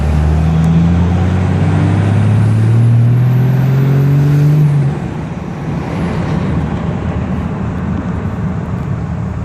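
A truck fitted with an HE351VE turbo pulls hard in third gear, its engine note climbing steadily and loud before easing off into a steady road roar after about five seconds, with a faint whistle on top.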